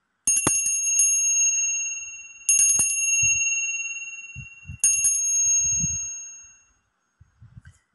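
A bright bell rings three times, each strike sharp and sustained with a long shimmering decay, spaced a couple of seconds apart, followed by faint knocks.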